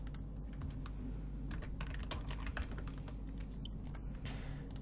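Keys clatter in a fast, irregular stream of light clicks on a computer keyboard, close and steady throughout, with no voices and a faint hum underneath.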